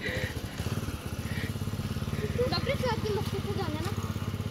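A motorcycle engine thrums steadily while riding, a close, loud, rapid low pulsing that holds throughout, with people talking over it.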